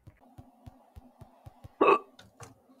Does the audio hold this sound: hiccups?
yes